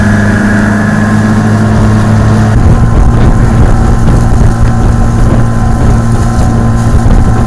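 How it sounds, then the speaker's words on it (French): A motor ferry boat's engine drones steadily on the water, loud and continuous with a low rumble and wind buffeting the microphone, with no talking. "Dans ces bacs à moteur qui côtoient les pirogues de fortune"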